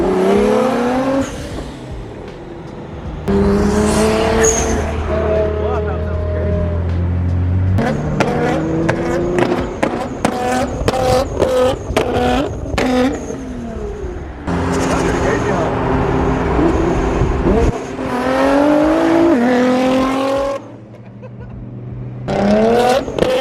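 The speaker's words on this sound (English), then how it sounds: "Bro, these exhaust sounded so sick." A loud Nissan GT-R exhaust roars through hard acceleration and gear changes while racing, engine rising and dropping in pitch repeatedly, with people talking over it throughout.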